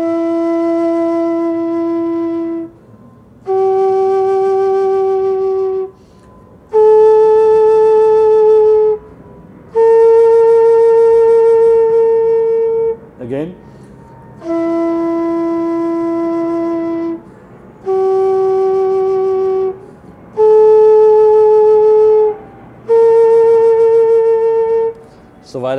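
A bamboo-toned flute plays a slow ascending Sa Re Ga Ma sequence twice, four long, sustained, breathy notes each time, with brief gaps between notes and a short pause between the two runs.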